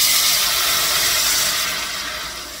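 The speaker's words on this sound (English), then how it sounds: "So now I'm going to add a little bit of water to this." Water poured into a hot, greasy pan of frying fish erupts in a loud, dense sizzling hiss that stays steady close by, then eases off gradually, with no voices.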